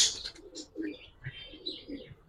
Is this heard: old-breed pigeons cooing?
yes